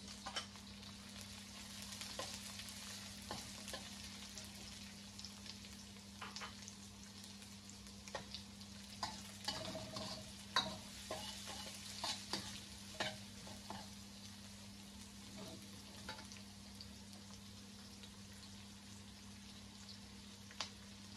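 Garlic and onion frying in a pan for Ilocano dinardaraan, a soft steady sizzle over a low hum, with scattered light clicks and spatula taps, faint and without speech.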